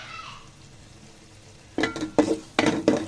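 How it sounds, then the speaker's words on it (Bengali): Hilsa fish sautéing in spices in a pan, with a faint sizzle at first followed by four distinct bursts of stirring and scraping in quick succession, close and moderately loud. "মাছগুলোকে কষিয়ে উঠে ফেলছি।"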